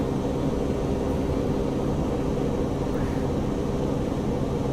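Steady, loud engine drone from an airplane in Microsoft Flight Simulator 2020 as power is added with flaps and landing gear extended, a continuous broadband roar holding even throughout with no voices.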